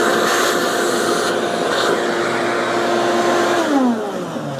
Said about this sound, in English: I gotta vacuum the floor now too.